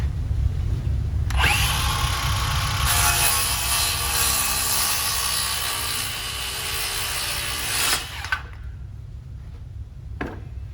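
A power saw whines loudly cutting the tip off a wooden hip rafter for several seconds, then cuts off, with a low steady rumble underneath throughout.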